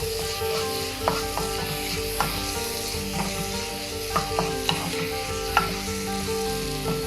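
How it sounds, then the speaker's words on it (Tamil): Tomatoes sautéing in a pan for broccoli fried rice, a steady bright sizzle with occasional scraping taps of a spatula stirring, close up and with no talking. "தக்காளி நல்லா மசிய வதக்கிடணும்."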